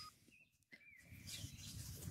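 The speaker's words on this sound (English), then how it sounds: "You hear the robins?" Thin, high whistles of robins singing sound faintly in the distance, a couple of sustained notes against a low outdoor hiss.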